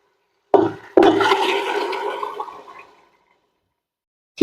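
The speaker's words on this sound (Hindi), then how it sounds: "इसके अंदर आधा किलो आपने चने जो कि पानी समेत थे वो डाल दिए हैं।" Half a kilo of soaked black chickpeas and their soda water tipped into a cooking pot, a brief splashing pour with a thud at the start that fades out after about two seconds.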